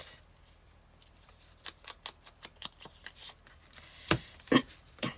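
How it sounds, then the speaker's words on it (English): Paper is torn off in a run of short, crisp ripping bursts for a bingo card journal. The rips start sparse and quiet, then end with two louder tears close to the mic. There is no talk. "I'm gonna rip some of that off."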